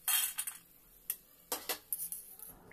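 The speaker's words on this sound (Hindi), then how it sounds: "ये कितना खास्ता बना है उसका साउंड आप सुन सकते हैं" Crisp, brittle crunches and clicks of a fried wheat-flour snack come in a few separate bursts, close and fairly quiet, with no talking.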